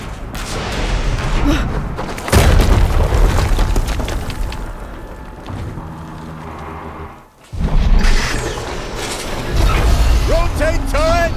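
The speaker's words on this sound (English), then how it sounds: "Another explosion." A loud, booming explosion from the Horizon Zero Dawn video game, with heavy blasts and rumbling bursts over game music and noise, a brief drop, then another powerful burst.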